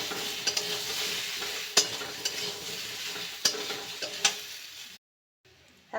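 Small potatoes coated in turmeric sizzle steadily as they fry and are stirred, with sharp scraping clicks from the spoon, a brief drop to silence near the end, then the frying resumes.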